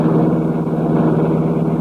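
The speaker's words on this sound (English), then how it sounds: "Britt Reed pressed a button. The great car roared into life." A big streamlined car, the Black Beauty in a radio drama sound effect, roars into life with a loud, steady engine rumble that holds evenly for nearly two seconds with no talk over it.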